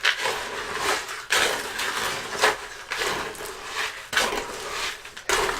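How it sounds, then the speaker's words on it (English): Thick cement mix being stirred in a bucket for a pumpkin planter, a steady scraping churn broken by several short pauses and louder restarts, close and alone with no voices. "as you're stirring this and getting it mixed up, that you're getting down to the bottom of your bucket or whatever you're mixing in"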